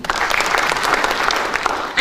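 Applause fills the hall at a national student economics debate, a sustained patter of many hands clapping close and loud before it thins slightly near the end.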